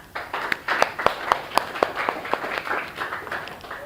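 A classroom of students applauds together, a dense burst of hand clapping with sharp individual claps standing out, steady and fairly close for a few seconds.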